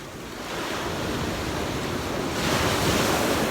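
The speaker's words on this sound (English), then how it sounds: "See, those waves are getting quite big now." Large ocean waves surge onto a beach beside the Burj Al Arab in Dubai, a loud continuous roar of surf mixed with wind buffeting the microphone, swelling louder toward the end with no talking.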